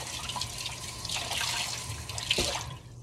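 Warm tap water runs steadily into a sink while washing dishes, with a hissing splash, a few drips and clinks standing out briefly near the end.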